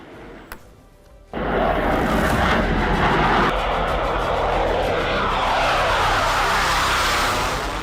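Tejas Mk1A fighter jet passing close and loud, a sudden roaring engine rush that holds steady as a broad continuous jet noise after a brief quiet start.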